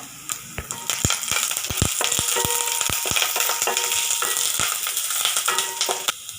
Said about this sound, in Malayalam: സവാളയും വെളുത്തുള്ളി ഇഞ്ചിയൊക്കെ ഒന്ന് മൂക്കട്ടെ. കറിവേപ്പില ഇട്ട് കൊടുക്കുന്നുണ്ട്.